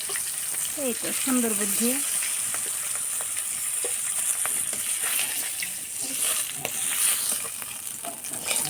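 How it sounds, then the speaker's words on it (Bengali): Hilsa fish pieces fry in a pan with a steady close sizzle and occasional stirring scrapes, while people talk briefly over the cooking. "মাথা এগুলো সুন্দরভাবে হালকা করে ভেজে নেব"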